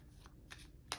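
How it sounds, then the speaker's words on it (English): Tarot-sized game cards for a Veilwraith card game are shuffled in quiet, brief riffling bursts, ending in one sharper flutter, close and soft with no talking. "there is quite a bit of shuffling in this game"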